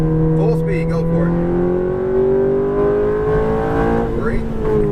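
A Ferrari F430 engine pulls steadily on a race track, its rising harmonic drone climbing gradually in pitch as it gains speed, loud and continuous, with a coaching voice talking over it.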